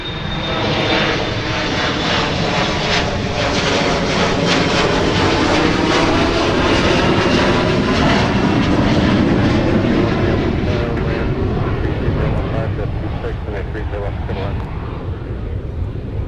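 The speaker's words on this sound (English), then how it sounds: "That was SkyWest departing" SkyWest airliner departing Minneapolis–Saint Paul airport, its engines building into a loud, continuous takeoff roar that swells and holds for the whole stretch, with someone speaking beneath the noise.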